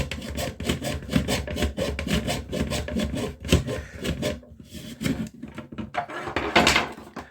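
Rough, repeated back-and-forth rasping strokes of a hand saw cutting through wood, steady and close, with a brief pause before the sawing resumes.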